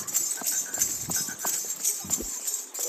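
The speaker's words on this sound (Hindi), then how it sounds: "घोड़ी चौताला डांस करेगी पहले" A dancing wedding-procession mare in Rajasthan stamps out a quick, uneven run of hoof clops on hard ground, close and fairly loud, with a little background chatter.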